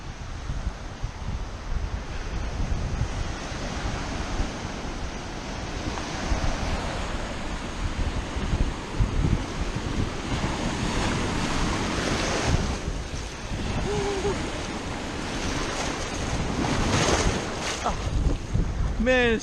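Surf crashes steadily against the shore with heavy wind noise on the microphone, and the rushing water swells and recedes in a sustained, loud wash.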